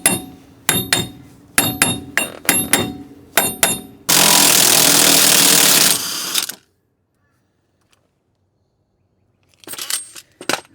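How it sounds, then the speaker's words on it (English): A hammer strikes the wheel bearing nut on a Ford Falcon in a series of sharp metallic clinks, followed by a steady burst of loud hiss and then a few faint clatters. "Sometimes if you give it a whack before you remove the nut, it can help loosen it off."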